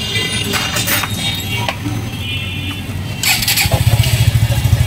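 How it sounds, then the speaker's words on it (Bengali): A Suzuki Gixxer SF motorcycle engine cranks and catches, then settles into a loud, throbbing idle close by, with a few mechanical clicks before it fires. "বাইকটি স্টার্ট করে নেবেন।"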